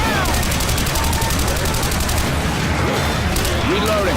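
Dense, nonstop gunfire from the video game Left 4 Dead 2, in the Hard Rain campaign, rattles loudly and up close, with voices talking over the shooting.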